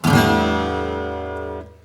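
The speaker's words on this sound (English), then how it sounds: "a guitar washes up on shore in standard tuning and you strum the strings open" A single strum across open guitar strings rings out loudly, an unresolved, slightly dissonant chord that sustains and then is cut short.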